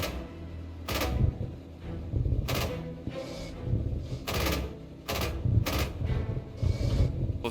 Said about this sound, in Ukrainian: Давайте постріляємо хаєшками.